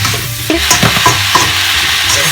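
Beef and mushrooms get stirred in a hot pan with two utensils, giving close, steady scraping and sizzling with clacks of the utensils against the pan. No one speaks.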